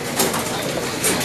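Racing pigeons come in to their loft after a training toss, heard as soft cooing and a brief flutter against a dense, steady background wash.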